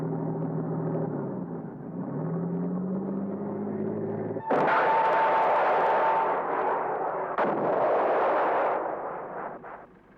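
A 9-pound anti-tank missile fired at the rear of a tank: a low rumbling drone, then a sharp loud launch blast with a roaring rush, followed by a second burst that fades away, no voices.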